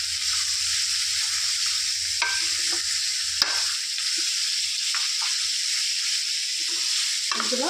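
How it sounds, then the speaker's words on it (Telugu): Chicken being stirred as it fries in oil in a pan, a steady close hiss of sizzling under scraping spatula strokes, with no voices. "చికెన్ చక్కగా ఈ విధంగా కలుపుకోవాలి"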